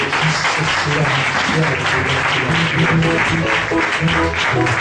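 A church congregation claps and cheers for Jesus with steady, dense applause that lasts throughout, loud and close, with voices shouting and singing mixed into it.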